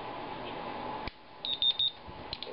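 A timer starting a 10-minute radiation test on a Japanese Swiss roll gives a short series of thin electronic beeps, close and fairly faint, after a click and a drop in background hiss.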